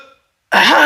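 A coughing sound effect in an audio story, a character falling to the ground coughing and gasping: a short faint tone, a pause, then a sudden loud, close, rasping throat-clearing cough.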